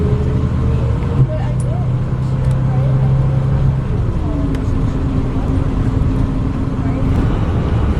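An AC Transit or Golden Gate Transit bus pulls away along the Van Ness bus rapid transit line in San Francisco, its engine drone and tonal whine sliding lower as it leaves, with steady street traffic around it and people talking nearby.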